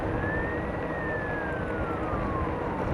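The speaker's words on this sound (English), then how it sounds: "here comes another siren" An emergency vehicle siren wails faintly in the distance as a single slow rise and fall over a steady roar of road or wind noise.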